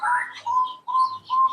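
Birds call in an outdoor aviary in the morning: a series of clear, tonal whistled notes in short phrases with brief gaps, fairly close and with no talking.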